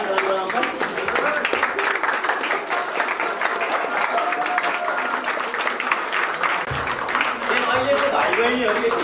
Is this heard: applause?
yes